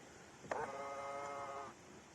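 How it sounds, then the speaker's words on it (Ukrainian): A short electric motor whirs steadily for about a second after a soft click, then stops: the electric side mirrors folding on a 2008 Ford Mondeo, close and fairly quiet against faint background hum. "складування зеркал. Так, сложилось"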